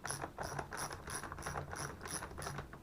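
A ratchet wrench tightens the stock of a Beretta A400 Extreme 12-gauge shotgun, its pawl clicking in a steady, even rhythm of quick bursts, close and clear with no voices.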